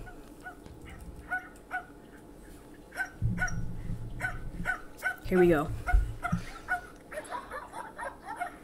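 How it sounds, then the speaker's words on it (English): Small dogs yapping in quick repeated barks, with whimpers and whines mixed in, while a person speaks briefly over them. "Okay, two dogs."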